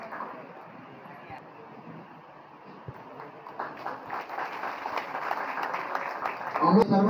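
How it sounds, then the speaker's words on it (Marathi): Audience applause at a special meeting of the Raigad district Kumbhar Samaj social organisation in Tupgav, Khalapur. It begins under a murmur of voices, rises about halfway through and swells louder toward the end. "आम्ही सर्वांनी टाळ्या वाजवून त्याचं अभिनंदन करायचं."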